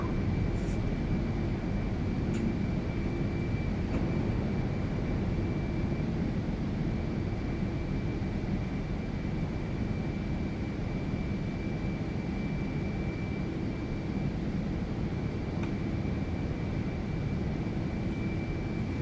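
A Delta Lockheed L-1011 TriStar's jet engines roar at climb thrust during departure, a steady, broad cabin drone with a thin constant whine on top, heard from inside the aircraft.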